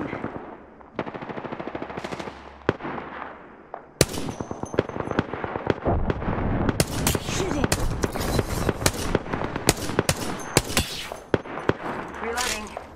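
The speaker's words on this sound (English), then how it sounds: "Listen up, I'm getting shot at." Rapid automatic gunfire from an Apex Legends firefight, dense bursts of close, loud shots continuing throughout with brief pauses, over a low background hum.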